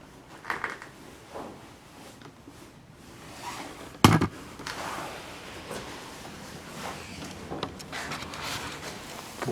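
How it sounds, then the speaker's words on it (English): Doors shifting in drafts inside the abandoned Newsham Park Hospital, with one sharp knock or bang partway through against a faint, hollow room tone and scattered soft creaks. "it's just drafts moving the doors"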